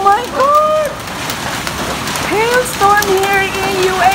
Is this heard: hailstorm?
yes